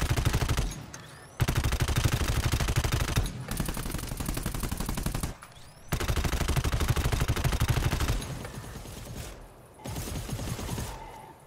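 Sniper rifle fire in the co-op shooter GTFO, loud sustained bursts of rapid shots in three long volleys separated by brief pauses, with a quieter burst trailing at the end.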